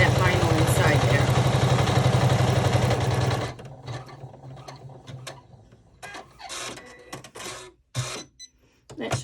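A sewing machine stitches vinyl for a fruit-themed TV remote case with a loud, steady mechanical whir that stops abruptly, followed by quieter handling noises and intermittent talk.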